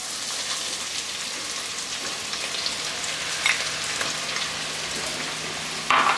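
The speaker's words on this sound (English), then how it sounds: "Now to the same oil, I'm going to add some garam masala and 2 onions." Onions and garam masala frying in oil, a steady, soft sizzle with a couple of louder spits near the end and no talking.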